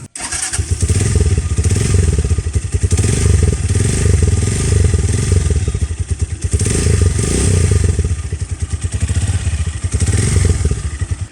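A Rusi Mojo 200 motorcycle's exhaust roars up close, revved repeatedly in surging bursts over a throbbing idle, loud and rough, with no talking.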